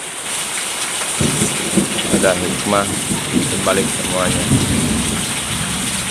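Steady rain pours throughout while low thunder rumbles, and someone speaks over the downpour from about a second in.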